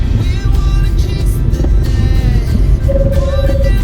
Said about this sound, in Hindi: किले के अंदर गाड़ी चल रही है हमारी।